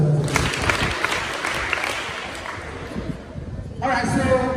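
Audience at a World Menstrual Hygiene Day celebration at a polyclinic claps for themselves, a moderate burst that fades midway before a voice speaks over the tail.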